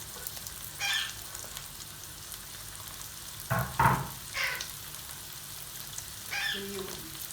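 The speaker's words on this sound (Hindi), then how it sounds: "थोड़ा सौटे करना है आपको। फिर शिमला मिर्च चली गई इसके अंदर।" Carrots and bell pepper sautéing in a pan, a steady low sizzle with a few brief stirring scrapes and clatters, close, with a voice speaking briefly.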